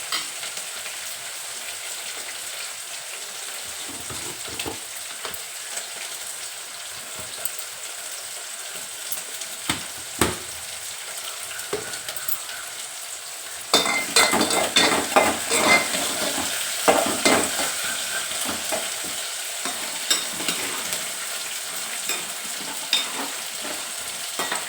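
Onions fry and sizzle in a pan while being stirred. A steady hiss runs throughout, with scraping strokes and a louder, busier stretch of sizzling partway through.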